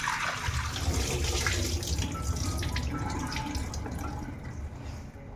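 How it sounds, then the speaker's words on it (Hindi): Tap water runs steadily over soaked lentils (dal) as they are rinsed in a kitchen sink, a continuous close splashing flow that lasts throughout and tapers slightly at the end. "इसको मैंने वॉश करके ही भिगाया था, लेकिन फिर भी मैं इसको 1-2 बार और वॉश कर लूँगी।"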